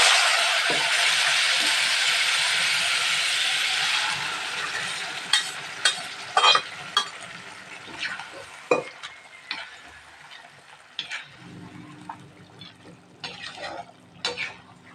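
Cooked goat head meat frying and being stirred in a hot pan of oil with fennel seeds, a steady loud sizzle at first, then scraping stirring strokes and softer crackling throughout, with no talk.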